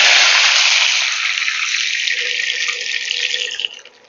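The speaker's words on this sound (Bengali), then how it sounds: "এবারে এখানে আমি দিয়ে দিচ্ছি 1/2 কাপ পরিমাণ জল।" Half a cup of water pours steadily into a pot of chilli flakes and spices while a crispy fenugreek leaf snack is being made. A loud, continuous gush tapers off toward the end, with no talking.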